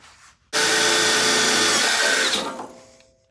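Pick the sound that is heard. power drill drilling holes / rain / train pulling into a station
power drill drilling holes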